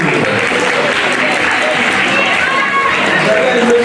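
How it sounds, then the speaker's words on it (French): An audience at a live quiz challenge in Paris claps for the winning team. The applause is loud and continuous across the whole stretch, with crowd noise and cheering mixed in. "Applaudissez s'il vous plaît."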